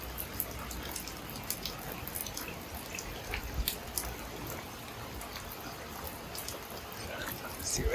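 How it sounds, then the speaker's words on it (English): Rain runs down siding and spouts off a small drip-edge lip of roof flashing over EPDM on a pool pavilion, a faint, steady patter with scattered sharper drips throughout. "you can see how the rain is coming down the siding, and it's hitting that little lip that's making it shoot out away, almost like a little spout"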